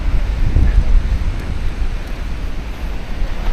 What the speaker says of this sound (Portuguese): Uma região que tem um vento predominantemente forte